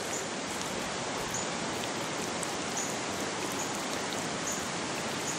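Fast-flowing floodwater rushes past in a dense, continuous hiss and roar, steady and fairly loud with no voices over it.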